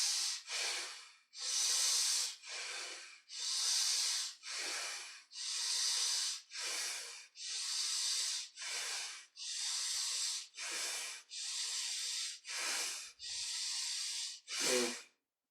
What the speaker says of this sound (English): start breathing from the belly. Little longer breath, belly expansion and contraction.